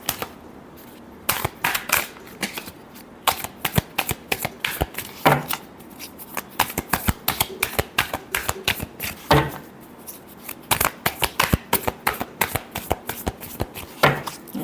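Tarot cards are shuffled by hand during a weekly astrology reading, giving a loud, close run of rapid riffling flutters and slaps in repeated bursts, alone without talk.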